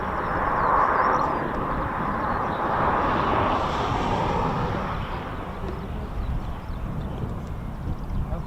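An RAF Phenom training aircraft flies past with a broad, loud engine roar and rushing air, cresting early and then slowly easing off as it moves away.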